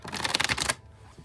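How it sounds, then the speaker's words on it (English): A tarot card deck being shuffled up close, a dense, loud riffling burst of rapid card flicks lasting under a second, then falling quiet. "I will shuffle until the deck feels ready, then I'll cut"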